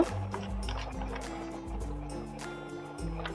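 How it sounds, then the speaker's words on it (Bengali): Water is poured into a cooking pot over ground poppy seed paste and green chilies, after rinsing out the grinding stone: a gurgling, splashing flow with bubbly pouring tones and a few drips, close up. "অল্প একটু জল দেবো পাটিটা ধুয়ে আমি জল দিয়েছি"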